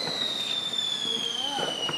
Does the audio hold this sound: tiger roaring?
no